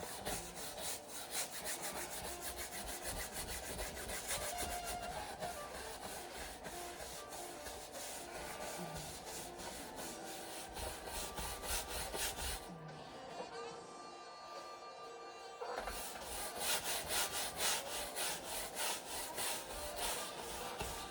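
A paintbrush scrubbing paint into a canvas makes a steady, close, dry rubbing and scratching that repeats in quick strokes, briefly easing off near the middle before resuming.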